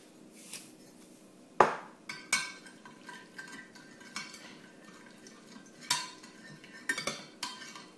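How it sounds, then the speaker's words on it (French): Chicken being mixed with a spoonful of garlic in a dish for roasted paprika chicken legs: scattered metallic clinks and scrapes of a utensil against the dish, sharp and close, separated by quiet pauses. "On mélange un petit peu."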